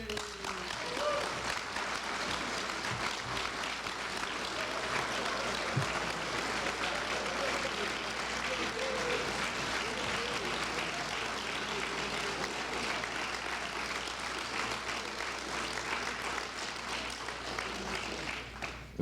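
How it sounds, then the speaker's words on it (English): A seated audience applauds at a university press conference announcing a new president, the clapping a dense, steady wash of many hands that carries on without break for the whole stretch, with a faint voice now and then beneath it. "If I knew y'all were going to clap that much, I'd have come up here earlier."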